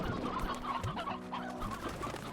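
Chickens cluck and chatter in a busy cluster in the video game Slime Rancher, with several overlapping bird calls at moderate level and no talking.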